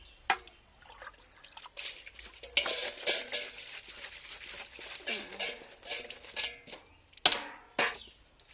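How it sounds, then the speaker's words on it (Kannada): Quiet, irregular splashing and trickling water as something is rinsed and swished around in a basin, with occasional sharper splashes. "ಯಾವುದೇ ತರಕಾರಿ ಆಗಲಿ ತೊಳಿಬೇಕ್ರಿ"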